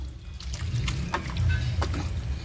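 Water squeezed from soaked button mushroom growing material, red-tinged from its soak, trickling and splashing in short bursts close by in a home kitchen.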